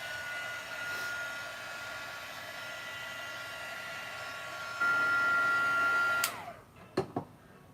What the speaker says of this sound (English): I'll dry this a little bit.